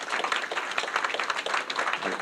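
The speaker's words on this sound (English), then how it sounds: "So if you'd like a round of applause." Audience clapping for a third-place award announcement at a Health 2.0 NYC patient empowerment event: a steady, dense patter of many hands, fairly faint and distant, with no talk over it.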